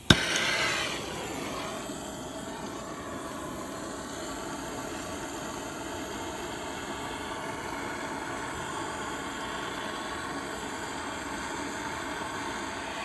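A gas torch burns steadily against the seized bleed screw on a Dodge Ram brake caliper, a continuous roaring hiss that flares briefly at ignition and then holds at an even level throughout, close and alone.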